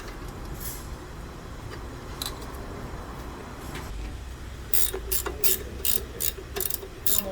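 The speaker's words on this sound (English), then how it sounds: "This is French ratcheting." Ratchet wrench tightening the caliper bolts during a brake job on a 2010-2014 Subaru Outback: faint workshop background at first, then a burst of rapid, close, crisp ratcheting clicks in quick repeated strokes near the end.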